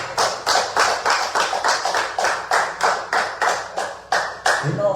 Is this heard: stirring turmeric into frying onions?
no